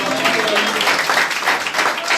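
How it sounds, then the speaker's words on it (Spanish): A church congregation claps for the King of Kings during a Spanish-language sermon, a dense, steady patter of many hands filling the room, with voices mixed in throughout. "Dale palmas al Rey de Reyes."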